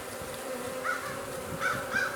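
Honey bees at a newly installed colony buzz softly nearby, a faint steady hum with a few brief rising drones from individual bees.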